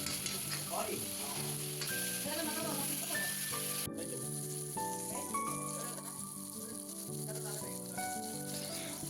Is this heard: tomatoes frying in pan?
yes